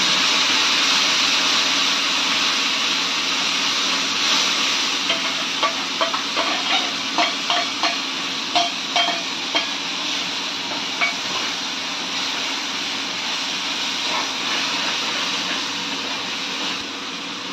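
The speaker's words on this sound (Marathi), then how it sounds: "चला मिरची आणि लसूणची पेस्ट टाकू आणि त्याला थोडंसं फ्राय करू." Chili-garlic paste and cumin fry in hot oil in a pan, a steady bright sizzle close at hand, with a run of quick spoon taps and scrapes in the middle.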